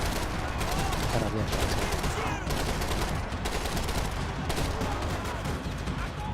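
Rapid gunfire from the video game Max Payne 3 fills the whole stretch, loud and dense bursts of shots and action noise, while a player speaks briefly over it.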